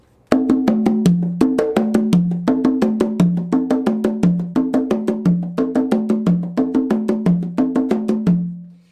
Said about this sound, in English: add this medium pitch drum, and it's going to play double notes in between these 2